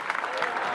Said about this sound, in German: Da gibt es ja mal einen Applaus